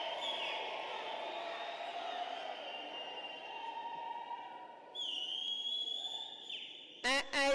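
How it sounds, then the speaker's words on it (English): Distant graduation crowd at a university ceremony producing sustained high ululating trills and a wash of cheering and applause, faint and steady, with a short burst of whistling or voice at the end. "Can I request ululations, mikhulukwane, and all the applause that you have to do."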